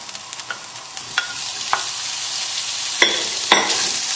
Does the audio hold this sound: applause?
no